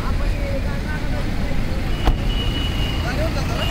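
A road vehicle drives past outdoors, its engine and tyre noise forming a steady roadway rumble through the whole stretch, with a brief sharper burst midway and faint chatter mixed in.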